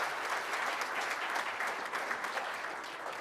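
Applause from a Rotary Club of Tulsa meeting audience for a group of standing Rotarians, a dense, steady wash of many hands clapping at moderate distance that holds evenly throughout.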